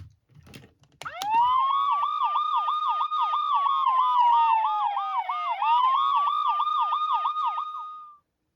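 After a couple of clicks, the police siren of a Miniforce Super Cops Justice Titan toy wails loudly and steadily with a rapid, warbling electronic yelp for several seconds.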